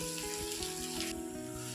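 Chopped green onions sauté with ginger, chili and garlic paste in a pan for a radish-leaf and besan dish, giving a steady soft sizzle with scraping stirs over a low hum.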